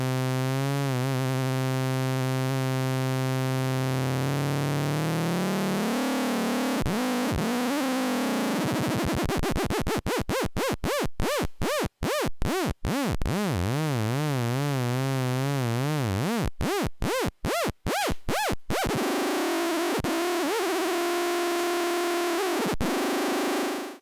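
Synthesized FM tone from a JUCE-built software synth, starting as a steady harmonic drone and then sweeping into wobbling, metallic sidebands as modulation frequency and depth change, with buzzy pulsing passages; loud and alone, no talk.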